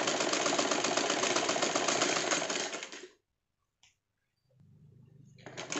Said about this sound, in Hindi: अब इस कपड़े को हम यहाँ पर ही घुमाएंगे इस तरीके से और एक बार सिलाई और लगा देंगे